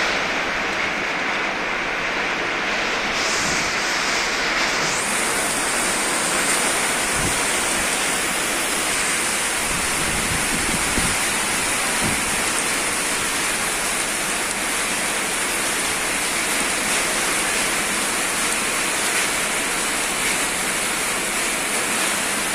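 Heavy, unbroken rain pours down in Hyderabad, a dense roaring hiss that stays loud and steady throughout with no voices.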